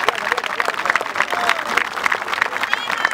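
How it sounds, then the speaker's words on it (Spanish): Street comedy show crowd claps, a brisk patter of hands with sharper individual claps standing out, mixed with voices from the performers and onlookers. "Toma, un aplausito para ti,"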